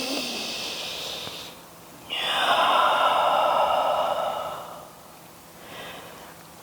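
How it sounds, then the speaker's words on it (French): A person breathes deeply during a yoga session. One long, loud airy exhale lasts a few seconds and is framed by softer breaths before and after. "Et on prend une respiration ici."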